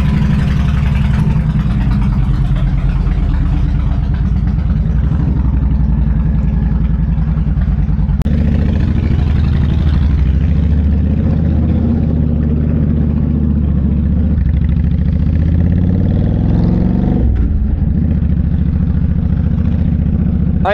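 A Honda Shadow Aero 1100 motorcycle rides off, its heavy low engine rumbling loud and close as it pulls away and revs through gear changes, with wind noise and no talking.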